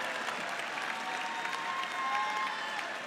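A large graduation commencement crowd claps and cheers steadily, a dense wash of applause with scattered whoops, heard from a distance.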